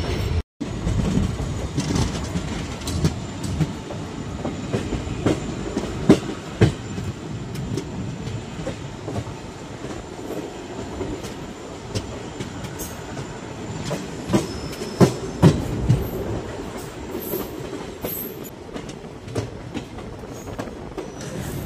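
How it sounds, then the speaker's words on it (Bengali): A local train rolls steadily into platform 1 of Abhayapuri station in Assam, wheels clacking over rail joints with occasional squeals and knocks, a continuous close rumble throughout. "1 নম্বর প্ল্যাটফর্মে ঢুকছে ট্রেনটা।"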